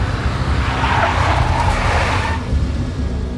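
A big black Mercedes skids with squealing tires in the Max Payne video game, a loud sustained screech over a rumbling engine that eases off toward the end.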